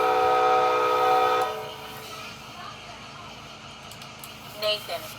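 An ACS-64 locomotive low horn sound effect sounds as a loud, sustained harmonic chord for about a second and a half, then cuts off and leaves a faint, low background wash.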